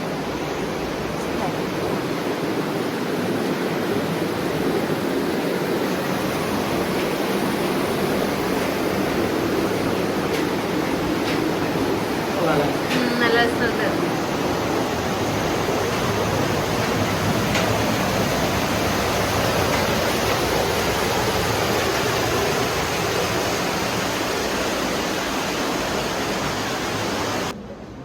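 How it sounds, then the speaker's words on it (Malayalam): Water rushing steadily through the Sturmannshöhle cave at Obermaiselstein, a loud, continuous broadband roar echoing in the enclosed space, with a brief spoken remark partway through. "ഇതാണ് ഒഴുകി വരുന്ന വെള്ളം"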